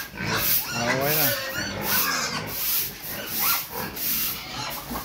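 Pigs in a backyard piggery in Bohol grunting and squealing close up, a continuous chorus of overlapping grunts with rising squeals, loud and busy throughout.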